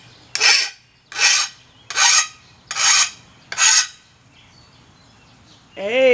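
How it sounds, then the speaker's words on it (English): A hand file rasps paint off the painted edge of a replacement lawnmower blade in five even, close strokes, followed by a short rising squeak at the end. "So I'm just filing down"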